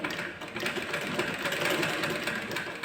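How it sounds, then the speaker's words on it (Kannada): Sewing machine stitching a blouse, a steady fast rattling whir of needle and motor running continuously and fairly close throughout, with no talk. "ಮಿಷಿನ್ನ ತಿರುಗಿ ಸೂಜಿ ಇಳಿಸ್ಕೊಂಬಿಟ್ಟು ನೀವು ಬ್ಲೌಸನ್ನು ತಿರುಗಿಸ್ಕೊಳ್ಳಿ ಯಾವ ಶೇಪಲ್ಲಿ ಇದೆಯೋ ಅದೇ ಶೇಪಲ್ಲಿ ಸ್ಟಿಚ್ ಕೊಡಬೇಕಾಗುತ್ತೆ"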